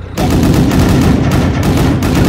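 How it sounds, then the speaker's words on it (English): Loud, rapid cannon fire in the Unturned video game, a dense burst of booming shots that repeats with no break, close and alone with no talk over it. "Watch how fast I can fire the cannon."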